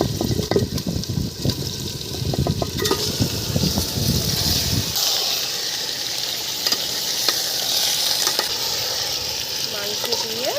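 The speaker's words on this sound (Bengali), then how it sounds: "রসুন ভাজা হয়ে গেছে, এখন আমি ঢেলে দেব মাংস।" Chicken pieces sizzle loudly as they are stirred into fried onion and garlic paste in a hot pan, with heavy scraping and turning for the first few seconds before settling into a steady, even sizzle.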